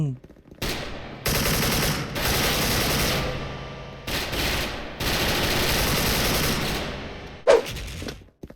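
Bursts of automatic gunfire in the online shooter Special Force, several long sustained volleys separated by short pauses, loud and close, with a single sharp shot near the end.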